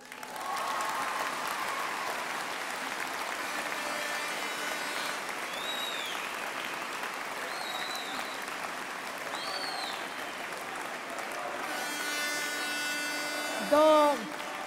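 A large crowd at Ségolène Royal's 2007 political rally in Dijon applauds steadily, a broad sustained roar of clapping with cheers and whistles rising over it, growing louder near the end.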